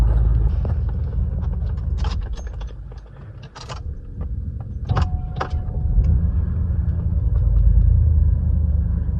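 The engine of a 1986 Cadillac Coupe DeVille runs as a steady low rumble heard from inside the car, with scattered clicks and mechanical rattles on top and a slight swell in level toward the end.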